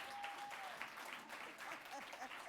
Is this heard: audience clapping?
yes